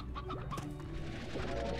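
Chickens cluck softly in short repeated bursts in the video game Slime Rancher, over a steady low background hum.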